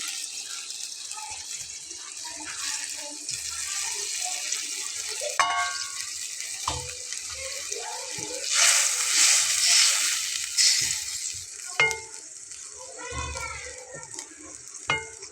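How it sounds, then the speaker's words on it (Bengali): Fried potatoes and okra tipped into boiling water in a pot and stirred, giving splashing, bubbling and a bright hiss, with scattered utensil clinks and knocks close by. "পানিটা একটু ফুটে আসলে আমি এর ভেতরে আগে থেকে ভেজে রাখা আলু এবং ঢেঁড়সটা দিয়ে নেব।"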